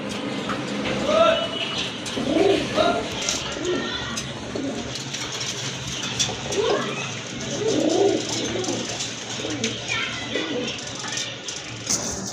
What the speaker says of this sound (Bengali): এখন দেখতে পাচ্ছেন আরেক জোড়া কবুতর